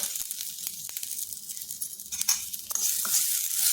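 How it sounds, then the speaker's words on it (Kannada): Sesame seeds crackling in hot oil while tempering for a raw banana curry, a dense fizzing sizzle with scattered sharp pops that grows louder toward the end, close up and without talk. "ಎಳ್ಳು ಚಿಟ ಚಿಟ ಅಂತ ಅಂತ ಇದೆ"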